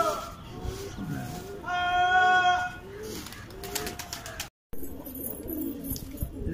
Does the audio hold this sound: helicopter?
no